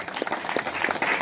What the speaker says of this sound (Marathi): टाळ्या वाजवायला कंटाळू नका.